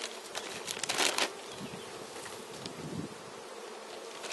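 Honeybees buzzing around an open hive while a small colony is moved from a nucleus box into a full hive, a dense steady hum with a brief louder swell, no talking.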